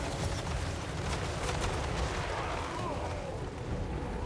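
Battle rages in Total War: Warhammer 3 as Empire forces fire: a dense, continuous rumble of gunfire and artillery booms with crackling volleys, steady and moderately loud without a break.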